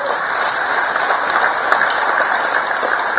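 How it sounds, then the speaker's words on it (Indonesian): A large crowd at a political speech breaks into dense, steady applause that holds at an even level from start to finish, with no voices standing out. "Tepuk tangan yang besar"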